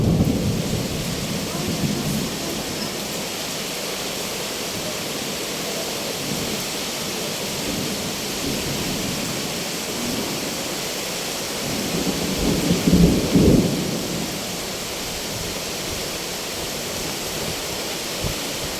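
Steady rain hisses throughout with a low rumble of thunder building around the middle, the broadband wash suggesting wind-driven downpour in Denizli, Turkey.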